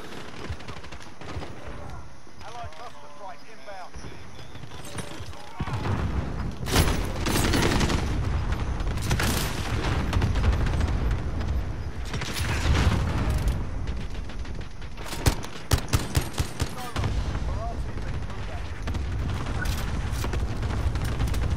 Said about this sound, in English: He's shooting through the red crate and everything else.